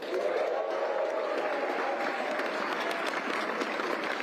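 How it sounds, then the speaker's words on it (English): A crowd claps at the opening of the 2023 Broken Arrow Skyrace, a Mountain Running World Cup event in the Palisades Tahoe village. Dense, steady applause stays loud and close for the whole span, with faint cheering mixed in. "let's clap for that"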